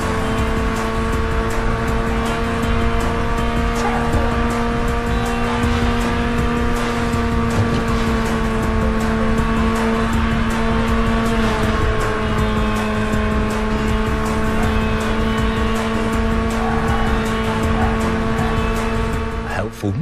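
A racing car engine in the PS2 video game Burnout holds flat out with the throttle never lifted, a loud, sustained high-pitched drone with steady tonal whine and no letup.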